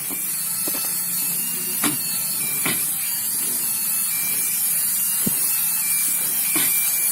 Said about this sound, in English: we've pretty much lubed the chain